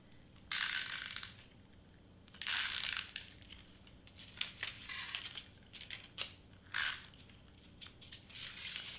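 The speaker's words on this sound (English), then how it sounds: "We want to tape down this side right here, right?" A Tombow tape runner rolls adhesive tape onto scratch paper, giving several close, rasping bursts with small ratcheting clicks in between, heard alone without talk.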